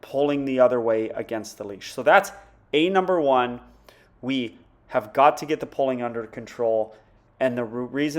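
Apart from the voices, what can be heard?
No everyday noise stands out behind the speech.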